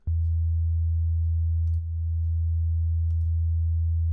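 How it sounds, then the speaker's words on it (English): A basic steady low sine-wave test tone runs through analogue audio gear. It is a constant, pure hum with one brief dip and a few faint clicks, and no voices. "I'm going to just use the basic sine wave"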